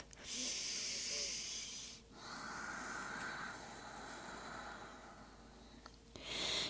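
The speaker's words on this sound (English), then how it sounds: "Start to just listen to the rhythm of your breath." Slow breathing during a gentle morning yoga stretch session, a couple of long breaths with a brief pause between them, close and fairly steady over a soft background hiss.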